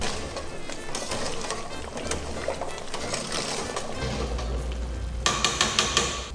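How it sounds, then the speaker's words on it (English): Dry rigatoni pasta tumbles into a pot of boiling sauce for a creamy Italian pasta dish, over a steady loud bubbling hiss, ending in a quick run of sharp rattling clicks. "And you add the rigatoni pasta."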